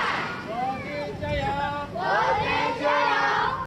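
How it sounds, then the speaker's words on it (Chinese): Outdoors, a group of children cheers and shouts excitedly for returning soldiers, their high voices rising in overlapping bursts against wind noise on the microphone. "小朋友情绪高昂，挥着国旗热情欢呼"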